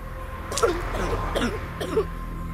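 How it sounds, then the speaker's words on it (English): A few rough, throaty coughs in quick succession, close and moderately loud, over a low steady hum: a female character coughing up blood in the video game Perseverance. "She is coughing blood and coughed up a thing."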